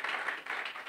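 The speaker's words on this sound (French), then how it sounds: "On va applaudir une fois de plus les panélistes pour leur contribution." Audience at a panel discussion clapping for the panelists, a dense, steady patter of many hands, fairly faint and distant, with no voices over it.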